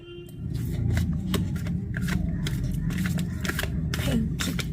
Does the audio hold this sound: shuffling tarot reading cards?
yes